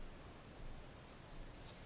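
A Hi Smile teeth whitening device beeps twice when its cycle finishes, short high-pitched tones in a quiet room.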